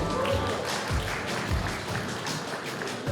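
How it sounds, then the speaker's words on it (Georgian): Crowd applause at a grappling event as referees are introduced, a continuous diffuse roar of clapping filling the hall. "აპლოდისმენტები თუ შეიძლება"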